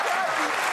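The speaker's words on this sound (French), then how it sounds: "Bravo, on peut applaudir Daniel Darmon." Studio audience applause on a French television talk show, a brief, loud and dense burst of clapping with crowd noise mixed in.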